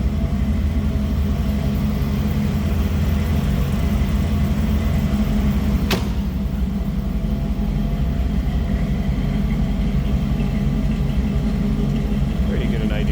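A 1929 Ford Model A roadster fitted with a 350 small block Chevy V8 idles steadily with a deep, even low rumble, close and continuous throughout, with a brief sharp tick partway through.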